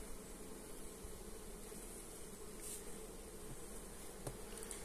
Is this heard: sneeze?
no